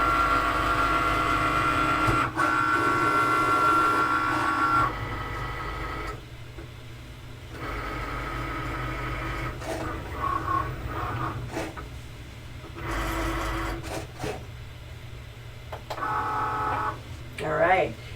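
A Cricut cutting machine cutting craft foam makes a mechanical whirring and humming that stops and starts in separate passes, with brief pauses between movements.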